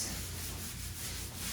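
Carpet adhesive residue is scrubbed off an original hardwood floor using Goo Gone, making a steady, close, continuous rubbing and scraping without a break.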